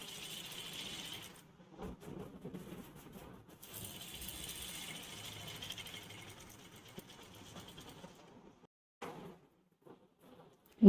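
A sewing machine stitches cloth for a jacket, a steady close mechanical whirring for several seconds that stops near the end, leaving brief quiet and a few handling sounds, with no talking.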